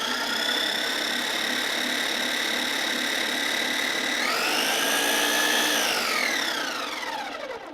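A blender purees cheesecake ingredients with a loud, steady high whine that rises in pitch midway and then winds down as it is switched off.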